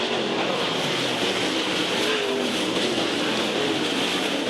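Race cars roar on a dirt track in a steady, loud, continuous engine drone from a full field of cars running near the end of a race, with no breaks in the noise.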